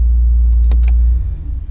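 A 2019 RAM 1500 Bighorn Hemi pickup idles in a garage with a deep, loud rumble, then shuts off near the end and the sound drops away into a fading, uneven hum.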